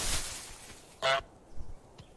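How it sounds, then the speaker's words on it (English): A cartoon goose honks in a video game, one short bright honk standing out clearly around the middle, with fainter softer honk-like blips after it against a hissy background. "Press Y to honk."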